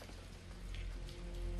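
Steady rain in the video game Gears of War 4 falls on a surface, a dense even patter with a low rumbling undertone, continuous and fairly soft.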